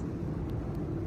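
A steady, low engine rumble fills the airplane cabin in flight on a connecting route from Hyderabad to Bhubaneswar, constant and moderately quiet with no voices.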